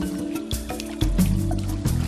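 A rhino rolling around in thick, gooey mud, with wet squelching, dripping and sloshing sounds that come in short bursts, heaviest midway, over a steady low hum.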